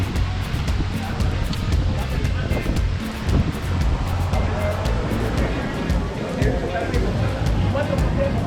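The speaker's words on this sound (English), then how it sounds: "Water's a little choppy today." Choppy sea waves wash against the shore at a Roatan resort, a continuous rough surf with wind noise buffeting the microphone.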